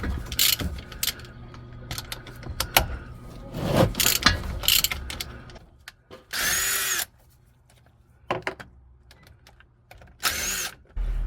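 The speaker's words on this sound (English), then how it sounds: "Gonna just crack these bolts open." Bolts on a Chevy truck CV shaft are loosened on a driveway, with close clicks and metallic clanks followed by several loud, short bursts of a power tool whirring, separated by quiet gaps.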